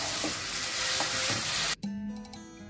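Greens (saag) cook and are stirred in a kadai with a continuous sizzle and a few scraping strokes. The sound cuts off abruptly, leaving a quieter hum.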